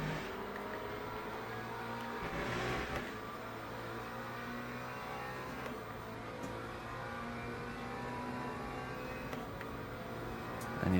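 A McLaren race car engine in a racing game holds a steady high drone as it accelerates, with the pitch rising and shifting, loud and continuous throughout.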